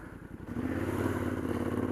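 A Yamaha T7 motorcycle rides along in third gear, its engine a steady low thrum with some clatter and wind, constant and close throughout.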